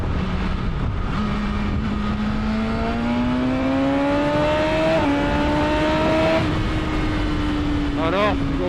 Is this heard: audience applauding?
no